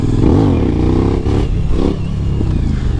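A Suzuki V-Strom 1000 motorcycle engine revs loudly up close, rising and falling in pitch with wind buffeting and clatter, during a wheelie ride.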